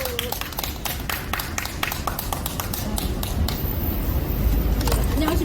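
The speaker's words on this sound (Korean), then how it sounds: "이인호님 박수 부탁드리겠습니다." An audience at a memorial service claps for the next speaker, with sharp separate claps and taps close by over a low rumble of background noise, thinning out toward the end.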